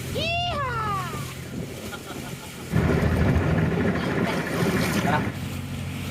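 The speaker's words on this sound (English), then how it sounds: "I even got to drive the boat on the way back." A boat engine drones steadily on a lake near Siem Reap, Cambodia, with wind and water noise, louder in the second half, after a brief high whistling call at the start.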